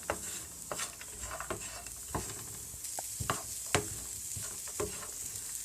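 Salted almonds roasting in a pan, a faint dry sizzle under repeated clicks and scrapes as the nuts are stirred and tossed, quiet and close with no speech.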